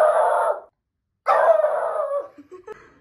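A pet dog indoors gives two drawn-out, loud howling barks separated by a brief pause, the second tailing off into a few short whimpering yelps.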